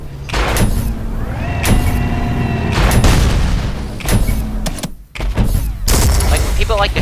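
Heavy jackhammer shotgun weapon firing in the fast-paced shooter Ultrakill, loud booming blasts repeated every second or so amid whooshing, metallic game effects and a busy action soundscape.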